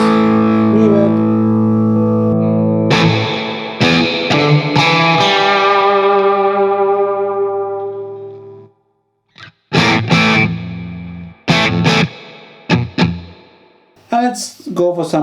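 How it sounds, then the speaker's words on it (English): Electric guitar played through the reverb effect of a Hughes & Kettner Black Spirit 200 amp head: a long sustained chord rings out and decays slowly, then short choppy strummed stabs follow, each trailing into reverberant tails. "Reverb."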